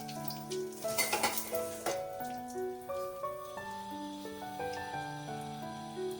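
Asafoetida drops into hot oil in a pan and sizzles with a burst of crackle near the start, then fades to a soft fizz beneath steady music.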